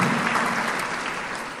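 An audience claps at a church gathering, a dense, even burst of applause filling the short moment without a break.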